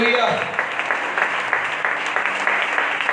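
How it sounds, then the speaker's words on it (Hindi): Church congregation clapping together during a Sunday fasting and prayer service, a dense, steady wash of applause that holds from start to finish, with faint voices mixed in. "तो जोरदार ताली के साथ प्रभु को धन्यवाद"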